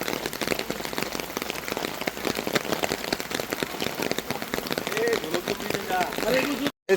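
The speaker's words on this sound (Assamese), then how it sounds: "নন ষ্টপ বৰষুণ মাৰি আছে দেই" Heavy, unbroken rain pours down in Darjeeling near a parked car and pine trees, a dense hiss of drops drumming on surfaces with someone speaking over it.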